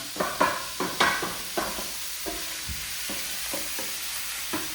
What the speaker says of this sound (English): We just want to mix the meat around.